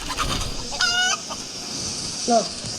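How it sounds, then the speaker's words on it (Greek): In the Fortnite video game, a chicken gives two short clucking calls, the first longer and brighter, the second brief, over a steady game background. "Να η κότα του Μιτσάν."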